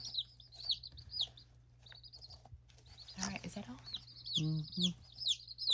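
Baby chicks peep in repeated high chirps while a hen gives a few low clucks nearby, over a steady hum from a brooder heating plate; someone speaks briefly.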